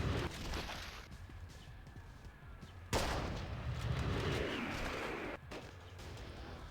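Gunshots in the zombie shooter game Unkilled: sharp, loud reports with ringing tails separate a few sustained stretches of battle noise, heard close, with no voices.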